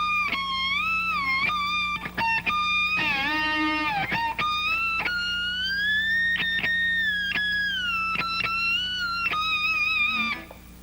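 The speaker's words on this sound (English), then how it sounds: "I got my trusty 5/8 socket out here because, like I said, it makes the best, for me, the best slide sound." Slide guitar played with a 5/8 inch deep socket on a riff, gliding notes sliding up and down with a brief trill near the start, with plucked attacks, clear and close on their own.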